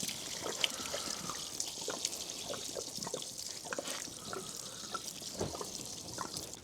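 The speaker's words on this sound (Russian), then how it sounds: "Насос выключили, сливаем воду" Water drains and trickles from a house water supply system with the pump switched off, a steady close splashing flow with scattered drips.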